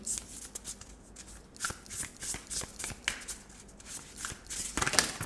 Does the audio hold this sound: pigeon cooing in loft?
no